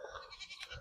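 A goat bleating in a Nepali village farmyard, a short, faint nasal call heard up close within a quiet rural setting.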